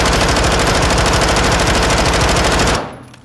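Rapid automatic gunfire from a weapon in Modern Warfare 2 played on PC with mouse and keyboard, a loud, steady stream of shots for nearly three seconds that stops abruptly into near silence.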